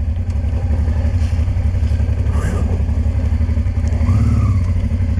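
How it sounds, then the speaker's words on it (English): An off-road motorcycle engine runs loud and close on a rough, rocky track in Portugal's Beira Alta, a steady low throb with rattling clatter and slight revving, no talk heard. "I don't even know why I have the engine running."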